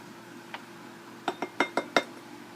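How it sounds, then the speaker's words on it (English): A spoon scoops purple sweet potato-banana ice cream out from around the blades of a food processor into a bowl, producing a short series of crisp metallic clinks and taps, one early and then four in quick succession, in a quiet room. "start scooping it out around the blades into your bowl"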